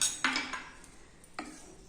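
Spoon stirring ground pepper and roasted cumin into lemon-ginger rasam in a pot: two quiet metallic clinks against the pot, one at the start and another a second later, with near silence between.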